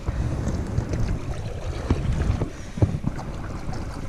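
A kayak moves toward shore on the Potomac River, steady water wash and hull rush mixing with wind buffeting the microphone, with occasional splashy paddle strokes throughout.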